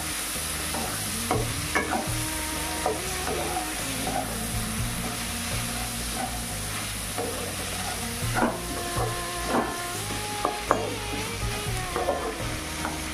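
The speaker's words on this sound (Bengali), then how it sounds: "কিছুক্ষণ নেড়ে চেড়ে ঢেকে দিচ্ছি যাতে পেঁয়াজটা খুব তাড়াতাড়ি নরম হয়ে যায়।" Chopped onions, whole garlic cloves, and dried and green chillies sizzle steadily in a pan, with repeated scraping stirs and clatters over the constant frying hiss.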